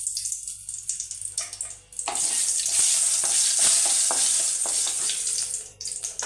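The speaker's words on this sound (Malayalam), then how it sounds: "നമുക്ക് കടുക് പൊട്ടി തുടങ്ങിയിട്ടുണ്ട്." Mustard seeds pop and crackle in hot oil in a pan, a dense, close sizzling hiss broken by sharp little pops, rising after a quieter start and easing at the end.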